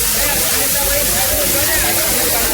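An artificial waterfall spills down a wall at the Statue of Unity, giving a steady, close, broadband rush of falling water with no pause.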